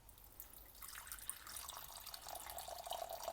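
Water is poured into the water dish of an adult female Theraphosa apophysis tarantula's new enclosure: a faint, steady trickle and splash lasting a few seconds, heard alone with no talking.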